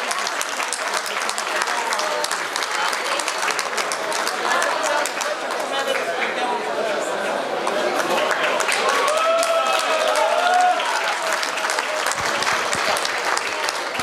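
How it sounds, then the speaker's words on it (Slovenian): Audience applause at the official opening of a spring trade fair in Komenda, continuous close clapping with some crowd murmur running through it. "En aplavz tik pred stiskom rok ob uradni otvoritvi."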